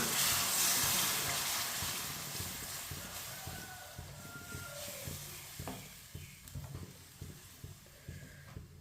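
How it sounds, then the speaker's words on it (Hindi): Water with peas comes to a boil in a cooking pan, giving a soft steady bubbling hiss that fades slightly, with occasional light clinks of a spoon close by. "पानी को अच्छी तरह उबाल आने देते हैं।"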